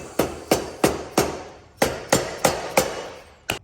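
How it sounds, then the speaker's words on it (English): A rubber mallet taps a fork part on a barn-find Yamaha BW80 dirt bike: about nine sharp, close knocks in a steady rhythm, with a short pause partway through. "Give that a wrap with the rubber mallet a little bit."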